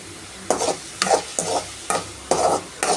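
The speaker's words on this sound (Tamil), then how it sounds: "இப்போ வதக்குனதுக்கப்புறம் நல்லா வதங்கணும்." Onions sautéing in hot oil for a chicken gravy, stirred in five quick bursts with a soft sizzle between them, close and clear with no talking.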